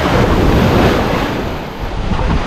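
Ocean waves at high tide on Maragogi beach in Alagoas, where the water reaches the vegetation. The surf roars loud and steady, mixed with heavy wind rumble on the microphone.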